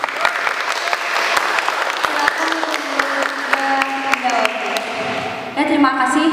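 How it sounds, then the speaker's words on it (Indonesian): Student audience at a high school student council candidate debate applauding a candidate, brisk crowd clapping with sharp individual claps, with voices and some tonal sounds mixed in near the end. "tepuk tangannya mana?"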